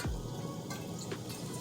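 Water poured from a tea kettle into a cooking pot makes a steady close splashing fill with a few drip-like plinks, no voices heard.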